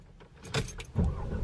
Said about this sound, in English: you got to put the keys in the ignition